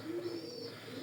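A female racing pigeon coos softly nearby in a single short, low murmuring call against a quiet background.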